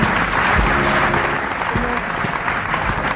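A crowd applauds steadily for a ghazal singer at an informal gathering, dense continuous clapping with a faint voice underneath.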